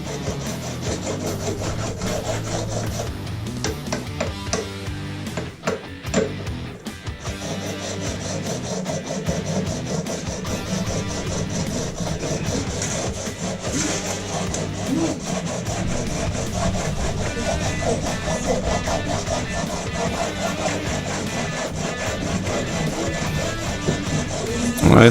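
A smooth stone rubbed back and forth along the frets of a 1981 Ovation acoustic guitar, a steady close scraping and sawing rasp that continues throughout, with only brief dips in level.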